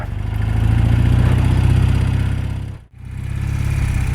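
A 1979 BMW R100S motorcycle engine idles steadily and close by, a loud, even low throb that dips briefly near the end before settling back, with no talking.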